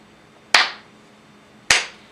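Two loud, close single hand claps over a second apart, each crisp with a short room ring, in an otherwise quiet space.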